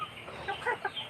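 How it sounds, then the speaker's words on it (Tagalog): A crowd of chickens squabbles over feed, a brief burst of close clucking and squawks rising out of low background noise. "Nagpakain ako ng manok. Ayan, oh, sobrang dami, nag-aagawan pa."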